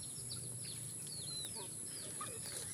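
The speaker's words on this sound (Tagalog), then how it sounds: "Andyan ang mga manok." Free-range chickens in a garden give scattered soft clucks and chirpy calls at a moderate distance over a constant high electrical-sounding hiss, with no talking.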